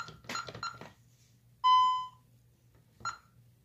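A fire alarm panel reporting a trouble condition in zone 2 gives one loud, clear electronic beep lasting about half a second. Brief speech comes just before it and a short sound follows, in a quiet room.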